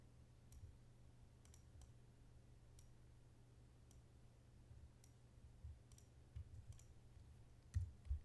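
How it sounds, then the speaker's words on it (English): Faint, sparse key presses on a computer keyboard, scattered single clicks at irregular intervals over low background hum, growing slightly louder toward the end, with no talking. "I just hit the hyphen key on my keyboard"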